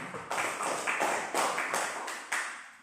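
A high-school classroom bursts into applause for a student, with claps rising in several quick waves over about three seconds and staying fairly steady and moderately loud.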